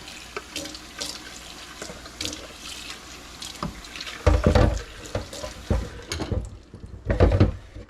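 Water runs from a kitchen tap into a sink, a steady splashing stream with louder gushes and clatters as things are rinsed and strained under it.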